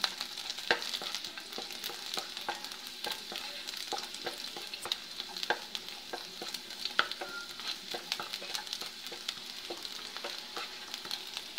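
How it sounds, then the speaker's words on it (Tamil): Garlic browning in hot oil in a pan alongside cloves gives a soft continuous sizzle, with frequent light scraping and stirring clicks from a utensil, quiet and close. "இது கூடவே பூண்டும் போட்டுடுறேன் பூண்டு கொஞ்சம் நல்லா ப்ரௌன் ஆகட்டும்"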